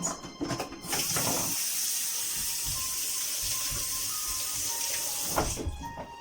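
Water runs steadily from a kitchen tap to soak a small kitchen towel for sprouting mung beans, a continuous close hiss and splash lasting several seconds with a few brief handling sounds at the start and end.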